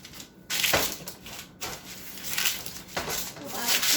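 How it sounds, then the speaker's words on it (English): Parchment paper is folded and creased by hand while lining a pan for butter cookies, giving several close, crisp crinkling and rustling bursts in quick succession. "So of course my parchment is too wide. I'll just fold it on the sides so that I can get it in there."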